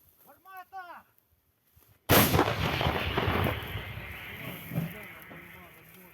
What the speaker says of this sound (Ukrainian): Так працює гармата гаубиця Д-20.